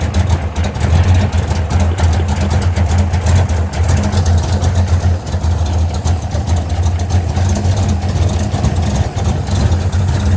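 A car engine idles at a steady, low rumble while warming up in cold weather, holding an even drone throughout with no other sounds.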